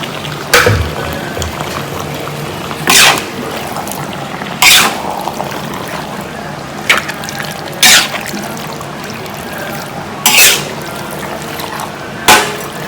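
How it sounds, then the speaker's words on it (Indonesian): Water poured in small splashes into a pot of pork saksang cooked with blood, several short separate pours spaced a couple of seconds apart over a low background hiss. "Tapi sebelumnya kita tambahkan air dikit ya, supaya dagingnya benar-benar masak dan empuk ya"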